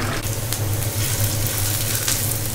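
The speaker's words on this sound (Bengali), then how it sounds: "এই কারণে পেঁয়াজ ভেজে নিচ্ছি।" Onions frying in a pan for a banana-stem stir-fry, a dense, steady close sizzle with no talk.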